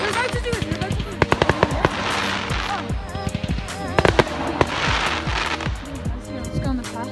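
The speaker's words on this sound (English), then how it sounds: "There's fireworks there." Victoria Day fireworks exploding outdoors, a rapid crackling series of sharp pops and bangs in irregular bursts, some close and loud, with people talking between them.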